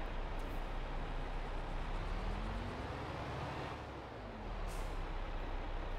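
A farm vehicle in Farming Simulator 22 reverses with a steady low engine drone and rumble, holding even throughout with a slight dip near the end.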